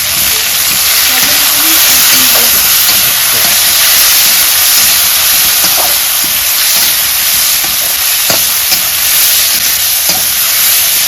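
Onions and tomato fry in a pan for a Bengali rohu fish and cauliflower curry, stirred as they cook. A constant loud sizzle and hiss runs throughout, with scraping stir strokes and brief voices underneath.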